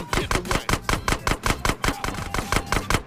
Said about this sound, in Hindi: भाई इतना गोली चला रहा है भाई